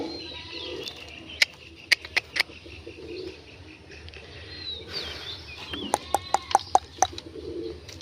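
Fancy pigeons in a home loft coo and chirp close by, with soft calls in the background and a quick string of sharp clicks or wing claps near the end. No one speaks.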